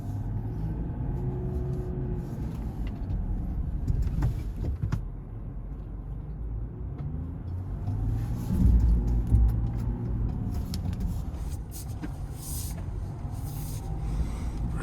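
A stock Land Rover Defender 110 working an off-road course, heard as a low, steady engine rumble and rolling drivetrain noise with a couple of heavier surges, no voices over it.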